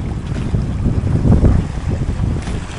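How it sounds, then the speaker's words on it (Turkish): Wind buffets a sailboat on a passage from the Greek island of Symi to Bozburun, making a loud, low rumbling roar with gusty swells and wind noise on the microphone, without talk. "Güzel bir rüzgarımız var."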